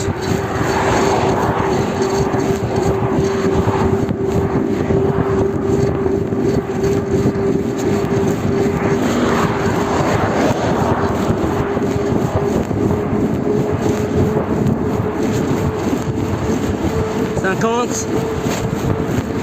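Light propeller airplane engine droning steadily through a descent, loud and close from inside the cabin, a constant buzzing hum with a faint rising whine near the end, with someone talking over it.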